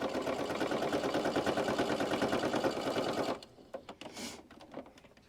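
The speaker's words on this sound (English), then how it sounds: "the last thing that I need to do is sew all around 4 edges, leaving a space open so I can turn it inside out" A sewing machine runs steadily for about three seconds, stitching along the edges of a pillow made from a t-shirt, then stops, leaving a few faint clicks and handling noises.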